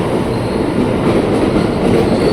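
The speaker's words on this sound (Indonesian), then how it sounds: "Nah, masuk nih komuter tujuan Jakarta Kota. Tokyo Metro 6108, rangkaiannya 10 kereta." Tokyo Metro 6108 ten-car commuter train bound for Jakarta Kota pulling into a station, a loud, close, continuous rolling rumble of wheels on rails filling the whole stretch.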